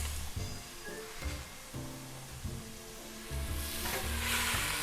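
Onions and garlic fry in olive oil in a pan, giving a steady soft sizzle with intermittent stirring scrapes and crackles, fairly quiet and close, with no speech.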